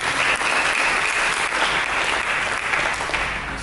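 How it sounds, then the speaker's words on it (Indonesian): Loud, dense applause from a church congregation during a sermon, a continuous roar of clapping that fills the room and eases off slightly at the end. "Berikan tepuk tangan."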